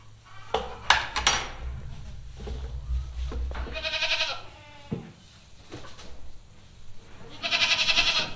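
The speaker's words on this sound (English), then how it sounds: "Aspen's a Saleska goat." Goat bleats twice, a Saleska doe at a West Virginia buck performance test pickup, with scattered clatter and handling noise in between; the calls are close and moderately loud.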